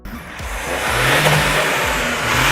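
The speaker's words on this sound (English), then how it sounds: "its hydrogen-powered cousin makes a noise that is as good and, in our opinion, even better than the petrol-powered version" Toyota's hydrogen-powered three-cylinder combustion engine revs up close and loud, a rising, throaty surge with no voices over it.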